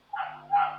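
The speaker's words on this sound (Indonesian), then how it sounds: "ada suara guguk ini dari mana nih?" Two short dog barks close by, a quick pair of yaps with a brief gap between them, standing alone without talk.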